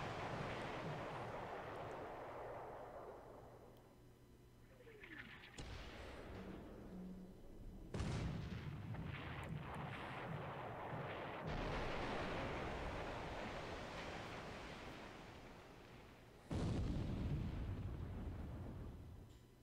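Warships fire in a World War II naval strategy video game, heard as deep booming gun blasts with rolling, surf-like explosion rumbles, several heavy shots spaced over a continuous low roar.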